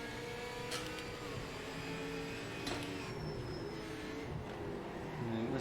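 A Holden race car engine in the Project Motor Racing video game drones steadily at moderate level, its pitch shifting gently as it holds speed, with a few sharp clicks along the way.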